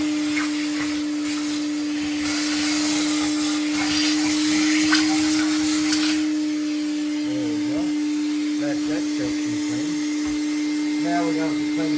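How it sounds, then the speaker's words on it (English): An old shop vac runs steadily throughout while vacuuming debris out of a wood cookstove, its motor whine constant, with the rattle and hiss of sucked-up ash and debris and some talk nearby. "So this is where the vacuum comes in real handy."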